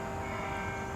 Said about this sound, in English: I wasn't expecting the chimes in the background.